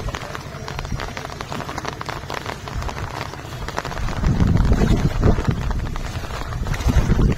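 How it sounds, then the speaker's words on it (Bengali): Heavy rain pouring down in the Sundarbans, a loud, dense hiss that swells stronger partway through, with rumbling low-end gusts and drumming on nearby surfaces. "বলতে বলতে আবারও ভারী বৃষ্টি নামলো।"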